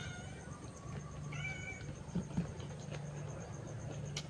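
Stray cats being fed outdoors in La Union give a few faint, drawn-out meows over a low steady background hum and light patter.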